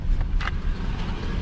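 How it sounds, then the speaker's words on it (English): A car engine with misfires on nearly every cylinder idles roughly, a steady low uneven rumble with no talk over it. "The car is a little rough, obviously, so it does have a misfire."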